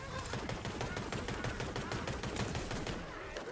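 Rapid automatic gunfire from a high-damage weapon in the fantasy shooter game Tiny Tina's Wonderlands, a dense, continuous burst of shots lasting several seconds at steady loudness with no talking.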